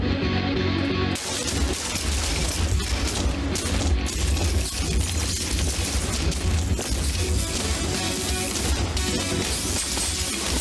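Gunfire from the futuristic roguelike video game Critadel crackles in dense, rapid bursts over a loud driving game soundtrack, the shots packed together without pause for most of the stretch.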